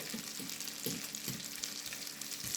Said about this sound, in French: Là, on fait bien cuire